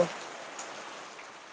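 Rain falling steadily as a faint, even hiss of drops across the whole short stretch, with no other sounds standing out.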